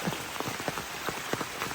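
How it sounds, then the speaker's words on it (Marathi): Quiet patter of rain striking a surface in Konkan, with scattered soft drops over a steady wash of hiss. "अचानक पाऊस पडलो"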